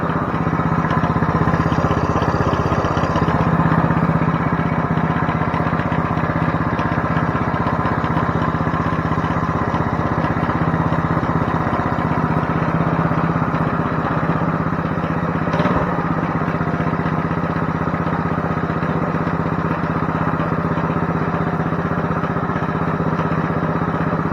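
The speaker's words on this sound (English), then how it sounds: "I think the clutch is making that noise." Coleman CT200U-EX mini bike engine running steadily with a loud mechanical clatter and whine from its clutch, a continuous close drone that holds throughout with one brief sharp knock partway in.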